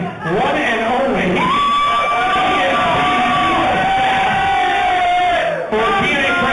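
Loud crowd at a TNA wrestling fan party cheering, whooping and yelling together in a sustained roar that stays dense and close throughout, with voices shouting over it.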